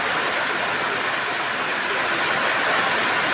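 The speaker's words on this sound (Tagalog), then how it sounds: "Lakas ng buhos ng ulan dito sa Alook." A downpour of heavy rain hammers down in Alook as a constant, loud wash of hiss and rumble, with no talking heard.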